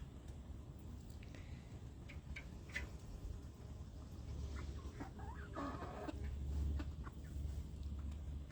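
Chickens cluck softly and intermittently against a low background hum, with a few brief sharper calls, fairly quiet and close.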